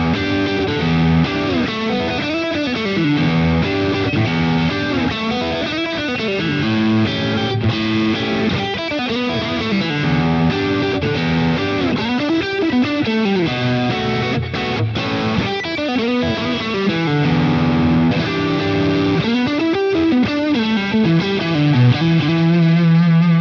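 Electric guitar lead played through a Boss Katana amp on a blues patch, overdriven with chorus and echo; a continuous, busy run of bent notes and phrases, loud and up front with no voices.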